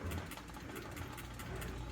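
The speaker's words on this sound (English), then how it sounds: "sure the heater will kick on here pretty soon" A room heater in a home workshop hums and rattles with a steady, buzzy mechanical drone and a faint, fast repeating flutter, moderately close, with no one speaking.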